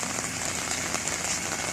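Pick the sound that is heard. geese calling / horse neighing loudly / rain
rain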